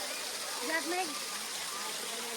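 Steady broadband rush of a mountain waterfall near a temple site, heard up close beneath the falls, with a person talking over the continuous water noise.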